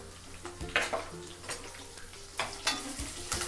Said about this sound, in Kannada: ಬೆಳ್ಳುಳ್ಳಿ. ಓಕೆ, ಸ್ವಲ್ಪ ಫ್ರೈ ಮಾಡಬೇಕು.